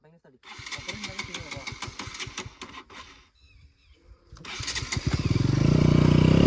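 A motorcycle stuck off-road on a group ride chugs in rapid, loud pulses, pauses, then roars into a rising, sustained rev, with people talking over it.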